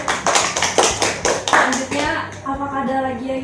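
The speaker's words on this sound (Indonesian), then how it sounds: "Tepuk tangan dulu." A small student group applauds at a school counselling session, a burst of brisk rhythmic hand claps lasting about two seconds, close and loud, followed by a voice speaking.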